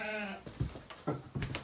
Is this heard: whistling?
no